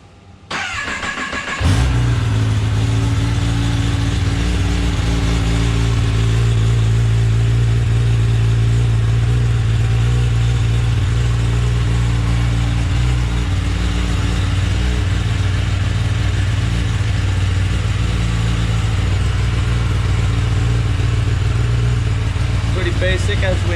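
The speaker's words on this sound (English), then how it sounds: "So I will give you guys a cold start." A Kawasaki ZX10R motorcycle with its stock exhaust cold-starts after a moment of quiet, then settles into a loud, steady, close-up idle that drones on without revving.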